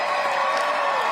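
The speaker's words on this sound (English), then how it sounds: "hundreds of people erupted into cheers and applause as the mission was successfully completed" A large crowd at the San Diego Air and Space Museum cheering and applauding, a loud continuous roar of voices and clapping with no pauses.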